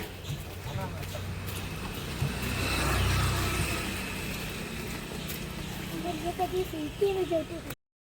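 Auto-rickshaw engine idling and running with a steady low rumble after rain, voices talking over it as people climb in, the engine note swelling slightly midway.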